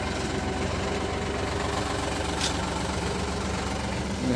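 A steady, rumbling tractor engine idles nearby at a tractor market in Malout, Punjab, with a constant low throb and vibration, unchanging throughout.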